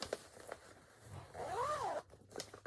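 A zipper is pulled on a handmade cloth bag, a short rising and falling zip heard up close and quietly, followed by a few soft handling rustles.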